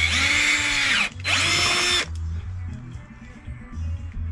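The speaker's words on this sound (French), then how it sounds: "c'est le moment de percer. J'ai pris un forêt de 8 moi pour commencer." An 8 mm bit in a power drill bores a pilot hole while LED lights are fitted to a 2018 Yamaha Raptor 90 quad. The motor whines loudly and close in two bursts with a short pause between, then only faint background noise remains.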